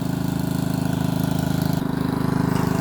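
A Craftsman 14HP OHV riding lawn tractor runs steadily close by, its small single-cylinder engine giving a loud, even putter with a rapid rhythmic pulse and no voices.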